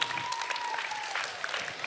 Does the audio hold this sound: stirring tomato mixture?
no